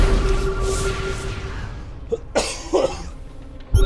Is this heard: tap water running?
no